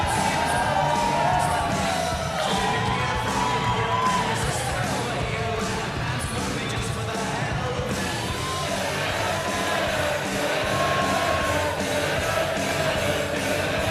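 A packed crowd in a wrestling pavilion cheers, whoops and yells without pause, a loud dense roar filling the hall as voices carry over it.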